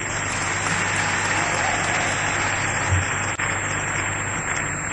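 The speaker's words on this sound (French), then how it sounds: "Oui, acclamez pour les députés aussi." An audience at a political gathering in Kinshasa applauds members of parliament, a steady, dense wash of clapping that holds for the whole stretch, with talk faintly mixed in.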